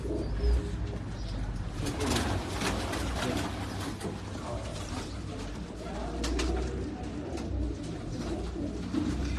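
Pigeons coo on a Karachi rooftop loft, soft throaty calls repeating over a steady outdoor background hum, with no voices.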